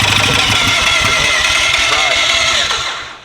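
A rotary engine runs loud and close right after its first start, a rough, buzzing, steady idle with a busy mechanical rasp that holds for several seconds before fading, voices faintly underneath.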